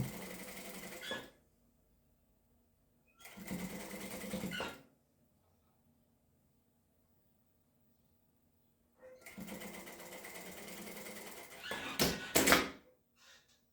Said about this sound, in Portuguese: eu venho e costuro a lateral que precisa ser costurada